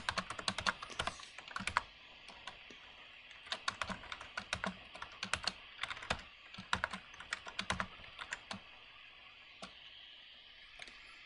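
Rapid clicking keystrokes on a computer keyboard while numbers are entered into a calculator, in quick irregular bursts with brief pauses, close and fairly quiet, with no talking.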